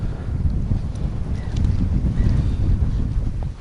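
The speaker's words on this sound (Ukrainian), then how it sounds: "Дуже вітряно." Strong wind buffets the microphone with a steady low rumble and roar, loud and constant throughout with no talking.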